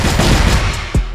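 Rapid bursts of video game gunfire crack loudly in a competitive ranked shooter match, several sharp shots landing close together in a dense, continuous volley.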